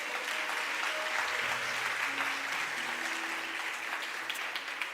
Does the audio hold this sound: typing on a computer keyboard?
no